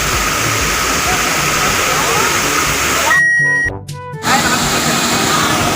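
A loud, constant rush of a waterfall at Villa Filomena in Indang, Cavite pours nearby, with a brief abrupt gap midway before the roar returns.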